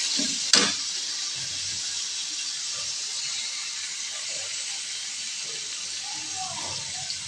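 Oil is added to onion masala frying in a pan, and a steady, bright sizzle hisses throughout after a sharp clatter near the start, with faint voices underneath.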